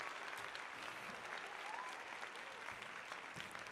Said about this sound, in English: A hearty applause.